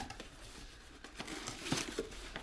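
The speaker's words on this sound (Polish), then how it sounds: "Także biorę się za rozpakowywanie." An orbital sander is unpacked from its packaging, with soft crinkling and rustling of plastic and cardboard, quiet and close, plus a couple of sharper handling knocks.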